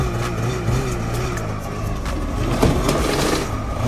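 Snowmobile being unloaded off the back of a truck with no ramp: a steady, loud engine drone with a brief scraping surge, outdoors.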